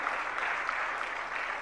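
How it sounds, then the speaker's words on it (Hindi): Audience applause at a Jain religious discourse session led by Sudha Sagar Ji Maharaj, a steady dense wash of clapping from a large crowd that holds evenly throughout with no voices on top. "बस एक बार तालियां बजा दीजिएगा"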